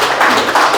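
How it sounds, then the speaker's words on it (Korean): An audience in Yeongju claps in encouragement, a dense burst of many hands clapping together, loud and close, brief and steady. "격려 박수 좀 부탁드립니다"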